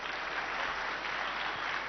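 Audience applause for a singer at an Ideas of India 2025 event, a steady dense wash of clapping from a large crowd that holds evenly throughout with no voices over it.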